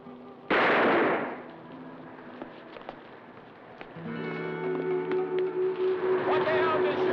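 A single loud, sharp gunshot cracks out close by and rings off. A quieter stretch follows, then a steady tonal drone with a pulsing rhythm takes over.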